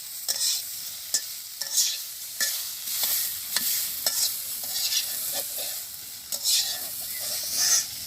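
Leaf bhaji stirred and frying in a pan in a village kitchen, with repeated scraping strokes of a spatula over a steady, fairly close sizzle of oil.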